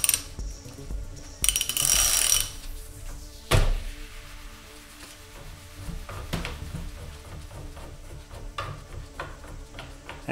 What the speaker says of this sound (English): You need a 12mm Allen socket in order to remove the bar end weight.